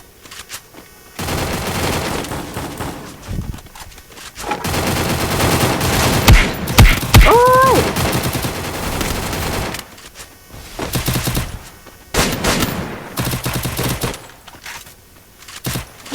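Rapid automatic gunfire in the Free Fire battle royale game, loud bursts of shots repeating in clusters across the clip with brief pauses between volleys.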